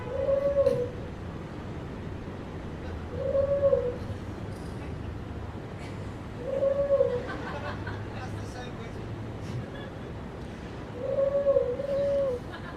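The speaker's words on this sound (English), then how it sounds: "Pigeons coo hither and thither." Pigeons coo over a city at night, soft low repeated calls returning roughly every three seconds, faint beneath a steady murmur of background babble.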